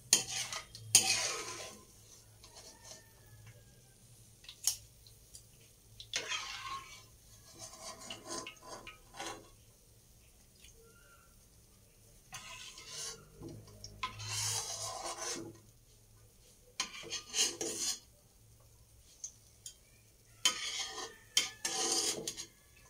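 Food stirred in a hot frying pan, with repeated scraping and rasping bursts of a utensil against the metal, irregular and close, separated by quieter gaps of faint sizzle.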